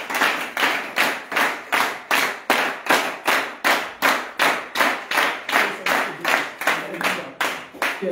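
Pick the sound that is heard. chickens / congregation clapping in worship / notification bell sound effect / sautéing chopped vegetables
congregation clapping in worship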